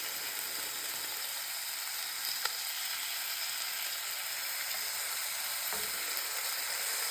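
Bacon frying in a pan gives a steady, even sizzle that fills the whole stretch, close and fairly soft, with a couple of faint clicks along the way.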